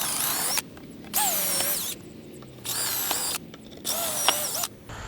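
A power drill drives screws into a wooden raised garden bed in three bursts, motor pitch rising and dipping as it drives in, with brief pauses between runs.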